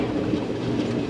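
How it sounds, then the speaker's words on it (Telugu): The Satavahana Superfast Express rushes into Khammam station, a steady loud rolling rumble of wheels on rails with faint clatter, heard alone without voices. "ఖమ్మం స్టేషన్లోకి అయితే దూసుకెళ్ళిపోతుంది మన శాతవాహన"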